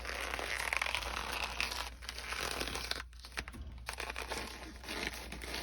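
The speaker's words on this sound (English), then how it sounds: "Turn your vinyl." A printed vinyl purse panel being turned inside out produces close, continuous crinkling and rustling of stiff vinyl, with brief pauses between handling movements.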